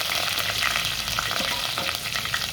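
Curry leaves crackle and sizzle in hot oil alongside popping mustard seeds for a crab gravy, a dense, steady, close frying hiss with scattered sharp pops throughout and no voices.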